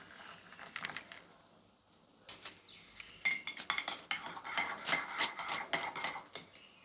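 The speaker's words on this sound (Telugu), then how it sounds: "ఇప్పుడు దీనిలోకి కాచి మరిగించుకున్న పాలు వేసుకొని కలుపుకోవాలి" Spoon clinking against a cup or pan while almond powder and a pinch of turmeric are stirred into boiled milk for homemade badam milk; quick, irregular metallic taps in bursts, close and moderately loud, with no talking.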